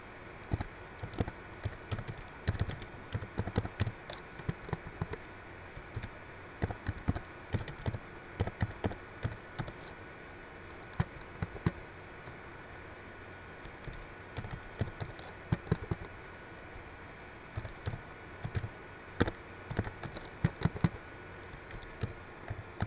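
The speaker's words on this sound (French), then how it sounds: "Voilà les noms des matières et je tape." Fast, irregular clicking of keys on a computer keyboard, with typing bursts and short pauses over a faint steady hum, close and quiet, with no speech.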